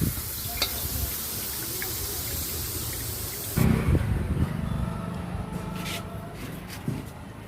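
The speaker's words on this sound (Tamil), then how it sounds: "பூண்டையும் நல்லா ப்ரௌனாக வர வரைக்கும் ஃப்ரை பண்ணிக்குவோம்" Garlic fries in hot oil, browning with a continuous dense sizzle and crackle. Midway comes a stirring clatter, after which the frying softens and settles while a few small utensil taps come through.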